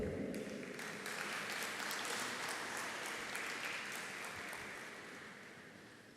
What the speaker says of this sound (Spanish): Démosle la bienvenida con un fuerte aplauso al señor Santiago Tejedor.